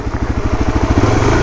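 A Suzuki DR-Z dual-sport motorcycle fitted with knobby tires runs its single-cylinder engine up close, giving a loud, steady, rapid thumping chug with no talk over it.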